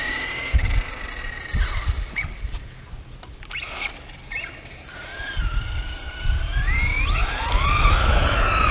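An FS Racing 53810 brushless 4WD RC truck running on a 3S lipo, its motor whining up and down in pitch as it accelerates and slows, with bumps and thuds from the chassis and no talking.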